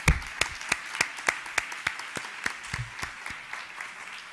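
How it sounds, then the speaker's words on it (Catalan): Applause at an alternative penal measures conference, heard as sparse, fairly rhythmic claps from a small group, about a dozen distinct sharp hits spaced evenly, moderately faint and slowly thinning out. "Un aplaudiment ben fort per tots vosaltres."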